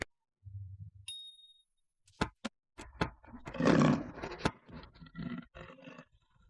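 A tiger roars in a comedy sketch, giving a loud rough burst with a few sharp knocks and a brief ring around it.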